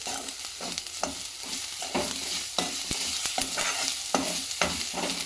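Spinach for palak paneer is sautéed in a pan, with steady moderate sizzling broken by repeated scraping stirs at an even rhythm.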